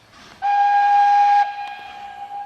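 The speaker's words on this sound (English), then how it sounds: "Pulled by a Shay locomotive, and it's a narrow gauge, wood-fired Shay locomotive" A narrow gauge, wood-fired Shay locomotive on a railroad lets out a loud, steady steam whistle, then holds a quieter, lingering whistle tone.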